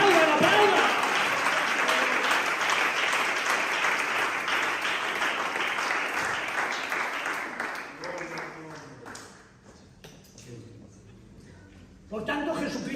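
A church congregation claps loudly and steadily during a sermon, the applause gradually thinning out and fading before a burst of renewed noise near the end.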